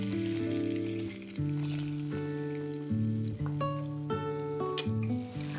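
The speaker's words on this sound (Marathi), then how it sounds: "आता आपण दुसरीकडून फ्राय करून घेऊया." Stuffed pomfret fish fries in a pan with a steady, close sizzle, heard beneath melodic background music.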